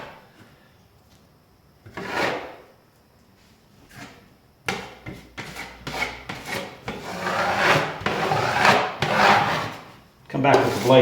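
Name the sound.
drywall knife blade scraping joint compound over tape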